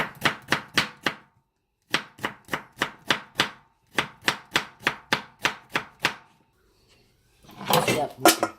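A knife chops ingredients for a Korean seasoned fresh oyster side dish, close and crisp, in three quick bursts of steady rhythmic strokes with short pauses between, then a rustling clatter at the end.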